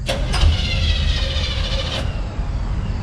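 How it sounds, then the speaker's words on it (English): A Detroit diesel V8 in a square-body crew cab truck cranks and fires, with a loud rising start burst followed by a rough, throbbing idle that settles and continues steadily nearby. "there goes the diesel"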